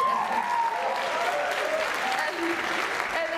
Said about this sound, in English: yes, round of applause, please.